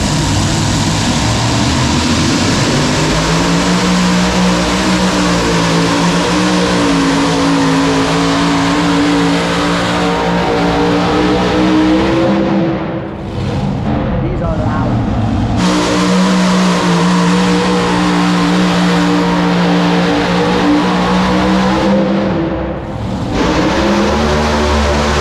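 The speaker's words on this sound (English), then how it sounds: "that is a tractor. So these things have 2, 3, or 4 engines." A multi-engine pulling tractor roaring loudly and continuously indoors at a farm machinery show, its deep engine drone briefly dipping twice before surging back.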